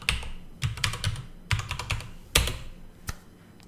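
Keystrokes on a computer keyboard as a password is entered, arriving in short irregular bursts of clicky taps with brief pauses between them, close and clear with no voices.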